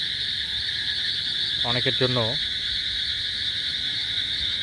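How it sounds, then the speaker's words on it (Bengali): Near a house with standing water, crickets and toads keep up a dense, unbroken high-pitched trilling chorus, and a voice speaks briefly over it partway through. "ঝিঝি পোকার আওয়াজ নিচে আসলে পানি জমেছে তো এই কারণে প্রচুর ঝিঝি পোকা"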